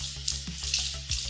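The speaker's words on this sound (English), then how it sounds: "I'm just rinsing it through water right now" Tap water runs over a pH meter as it is rinsed off while making fermented bottled hot sauce, a steady close splashing stream with a few brief louder spurts and no talking.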